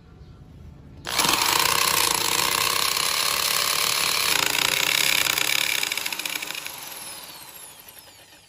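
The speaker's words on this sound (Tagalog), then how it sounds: "pindutin mo ang speed trigger para umandara ang drill" A power drill starts up suddenly and whirs loud and steady while boring a hole, its high-pitched motor whine holding for several seconds before gradually easing off near the end.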